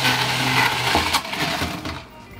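A Hamilton Beach blender whirs loudly, crushing ice as it mixes a 1934 Zombie tiki cocktail, with a rattling, broadband grind that runs steadily for about two seconds before easing off.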